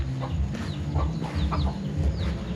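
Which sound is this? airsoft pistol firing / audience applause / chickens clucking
chickens clucking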